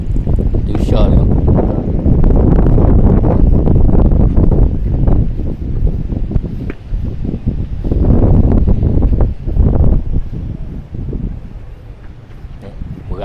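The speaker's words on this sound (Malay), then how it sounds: "Berangin kuat ni." Strong wind buffets the microphone on Pantai Irama beach by a Ramadan bazaar, a loud continuous rumbling roar with gusts rising and falling, with people talking underneath.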